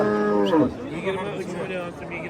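Oxen lowing loudly at a busy livestock market in Kattaqo'rg'on, one long deep moo that slides downward, with further calls and crowd murmur behind it.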